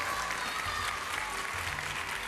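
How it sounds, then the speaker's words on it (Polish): A crowd claps steadily and enthusiastically throughout after an ice dancing performance, a dense, even patter of applause with no pauses. "Wielkie brawa dla Olgi"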